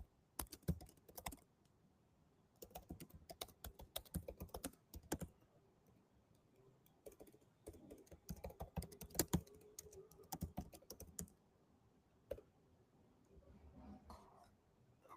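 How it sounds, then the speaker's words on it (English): Typing a prompt on a computer keyboard, sharp clicks in irregular bursts and pauses, close and fairly quiet with no talk. "So I can just type a prompt like show me the performance."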